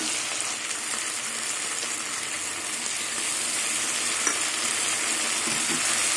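A ginger, garlic and green chilli paste fries with prawns and onion, giving a loud, dense, unbroken sizzle with only faint stirring touches.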